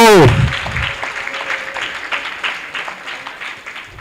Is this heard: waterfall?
no